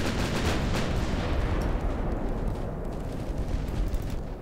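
Dense naval gunfire barrage from Ultimate Admiral Dreadnoughts, with the cruiser Wessex pounded by hordes of 40mm shells: continuous loud overlapping booms and rattling shots packed into an unbroken roar with no pauses.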